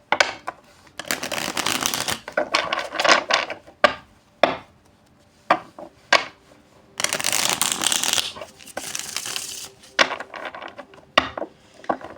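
Tarot cards shuffled by hand nearby, with long bursts of dense riffling and papery slapping broken by short pauses and single sharp taps as the deck is cut and knocked together.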